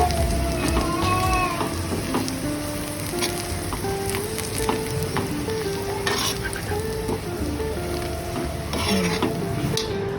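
Stuffed okra fries in oil in a pan as it is stirred: a steady close sizzle with repeated scraping and clinking of the spoon for about ten seconds, and no talk.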